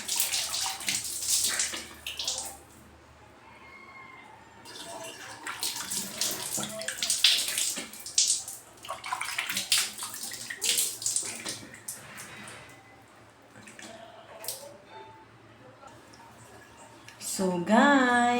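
Running tap water for rinsing off Celeteque facial wash, a continuous splashing flow with bursts of heavier splashing and gurgles, rising and falling in intensity over a long stretch.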